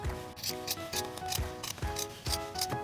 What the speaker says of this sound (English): get your scissors out and just cut all the way down